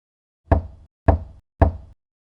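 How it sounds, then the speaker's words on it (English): Three slow, evenly spaced knocks land on a door, each a close, loud, hollow thud ringing briefly in otherwise total silence. "I heard a knock from behind the door. 3 knocks. Slow, steady."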